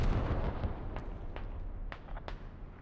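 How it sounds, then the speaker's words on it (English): Hell cannon artillery in the video game Squad fires and lands, heard as a rumbling low background with several sharp, distant booming impacts spread across a few seconds. "Oh, there's another one coming down. You got two hell cannons, one hitting the forward position."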